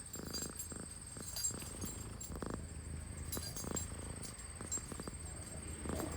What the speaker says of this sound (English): she is purring like crazy